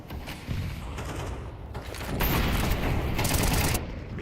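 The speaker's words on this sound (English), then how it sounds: "ECLOT forcing up with AKs, no utility" Rapid automatic AK rifle fire from a Counter-Strike match, dense overlapping bursts that swell louder midway, sustained and close with no talking.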